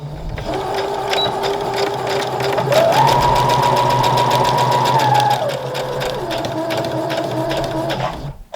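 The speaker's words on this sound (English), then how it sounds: "I'm going to sew directly on my purple lines" A sewing machine stitches fabric along marked lines for a knot headband, running loud and close with a steady rapid needle rhythm that speeds up midway, then slows back before stopping.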